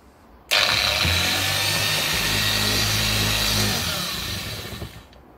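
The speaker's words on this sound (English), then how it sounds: "literally pulse the machine" A detailing machine polisher on speed 1 starts abruptly and whirs steadily for several seconds, close and loud, while a pad is cleaned on the fly. It winds down near the end, with no talking.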